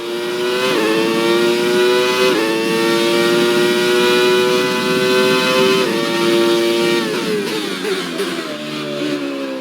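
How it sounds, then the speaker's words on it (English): A Benetton B194 Formula 1 car from the F1 2020 racing game screams down a straight, its engine note climbing steadily through several upshifts with brief dips at each gear change, loud and continuous. "on this straightaway, I'll let you hear the engine, because it just sounds amazing"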